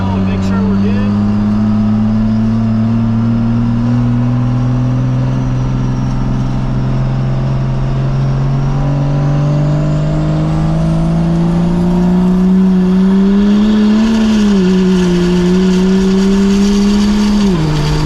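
A First Gen Cummins diesel truck engine drones loud and steady while driving, its pitch slowly climbing as it revs harder, then dipping and rising again near the end, with wind and road roar underneath.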